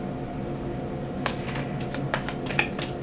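Cards are shuffled during a tarot reading, with a few soft, quick riffling bursts and light flicks, close by and fairly quiet over a steady background hum.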